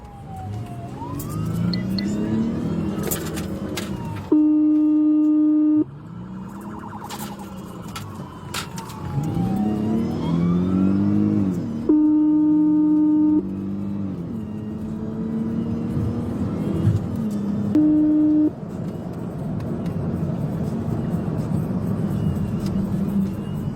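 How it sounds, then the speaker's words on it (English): Florida Highway Patrol pursuit as a patrol car executes a PIT maneuver on a Chevrolet near New Smyrna Beach: a wailing siren sweeps up and down over road and engine noise, with steady tone bursts breaking in repeatedly. "A precise pit maneuver broke the vehicle's traction, whipping the Chevrolet's rear end around"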